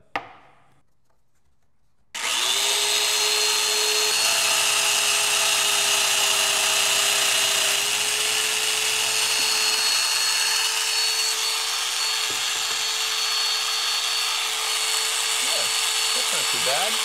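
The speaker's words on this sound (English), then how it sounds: "Now I need to drill the holes into the foot." A Festool drill bores holes into a wooden furniture foot, a steady loud whirring drone with a constant tone that runs for about fifteen seconds after a short quiet start, ending with a few brief clicks.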